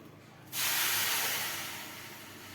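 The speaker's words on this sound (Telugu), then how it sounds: "ఇప్పుడైతే వాటర్ పోసుకోండి ఫ్రెండ్స్." Water hits a hot pan while cooking Maggi noodles, with a sudden loud sizzling hiss that slowly fades as it settles.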